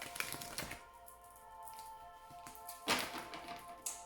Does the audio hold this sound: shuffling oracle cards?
yes